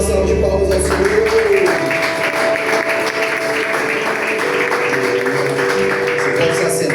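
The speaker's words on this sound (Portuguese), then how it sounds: "Você pode dar uma salva de palmas ao Senhor." A church congregation claps together in a sustained burst of applause during a worship service, steady and full throughout, with music playing underneath.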